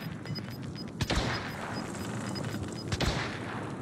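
An automatic weapon in the online shooter Truy Kích firing a fast, continuous burst of rapid shots, with two heavier punches or booms standing out, fairly faint and distant-sounding, with no speech over it.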